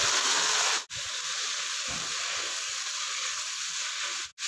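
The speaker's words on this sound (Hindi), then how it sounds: "इसे थोड़ा 2 मिनट तक हम इसमें ही भूनेंगे" Sprouted chickpeas, mung and moth beans sizzle and crackle in a pan with fried onions, giving a steady, close hiss with two brief breaks.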